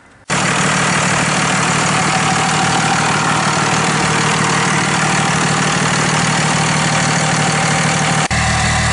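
A 1998 Cummins 24-valve diesel truck engine with a 5-inch exhaust fires up abruptly and settles into a loud, rumbling idle with a steady knocking clatter, close and constant until a brief dip near the end.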